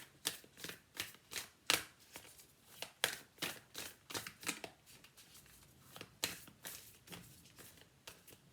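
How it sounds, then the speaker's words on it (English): Oracle cards are shuffled and pulled by hand, giving a quiet, steady series of quick papery riffles and taps in irregular bursts. The sound is close up and there is no speech over it. "let's pull you an oracle card"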